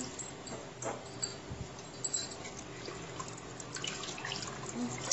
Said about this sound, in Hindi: पानी डाल देंगे जितनी भी ग्रेवी आपको चाहिए उतनी पानी डालेंगे